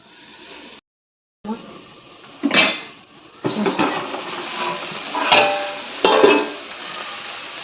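A cooking pan being covered with its lid on a gas stove while vegetables cook, with a few short metallic clanks and knocks standing out above a steady background hiss.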